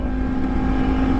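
A Yamaha MT10 motorcycle fitted with an Austin Racing exhaust holds a loud, steady engine drone, close and continuous with a strong low tone through the brief moment.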